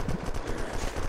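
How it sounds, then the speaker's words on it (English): Rapid burst of Dragon Fang gunfire in the video game Unturned, dense and continuous shots running through the whole moment, loud and fairly close with no talk over it. "I hear Dragon Fang shots"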